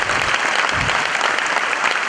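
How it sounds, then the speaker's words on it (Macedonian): Brisk, steady applause from the audience at a Macedonian stand-up comedy show fills a short stretch with thick, even clapping and no pauses. "Ајде, аплауз."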